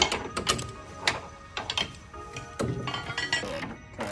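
A hand socket ratchet clicks in quick bursts during front control arm work on a 2023 Can-Am Defender APEXX, close and fairly quiet, with short pauses between the runs of clicks.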